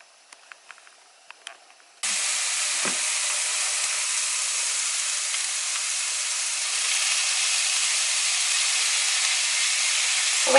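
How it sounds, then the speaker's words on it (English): Peppers hit a hot heavy-based pan and burst into a loud, even hiss that keeps going without a break after a few quiet clicks at the start. "I'm just going to throw in the peppers and let them get a bit of a fry on"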